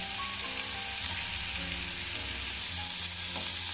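Pieces of beetroot, carrot, papaya and potato fry in a wok of mustard oil left over from frying fish, with a dense, continuous loud sizzle and occasional stirring scrapes.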